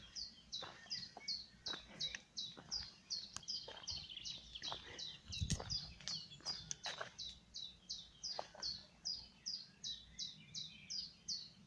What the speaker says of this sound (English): I hope you can hear that bird